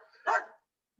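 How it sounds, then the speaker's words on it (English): A single short dog bark sounds at moderate distance, brief and alone, followed by silence. "So I assume that's what they're barking about"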